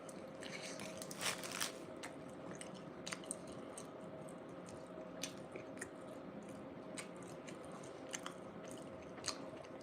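Someone eating bean burritos during a mukbang, with faint, close, soft chewing and squishy bites plus occasional sharper crackles against a quiet steady background, and no talking.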